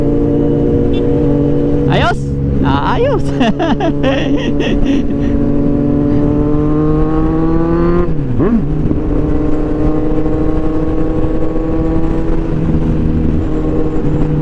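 A Kawasaki Z1000R motorcycle with twin canister exhausts idles with a deep, steady rumble, revving sharply a few times early on and once more midway, close and loud, while someone speaks briefly.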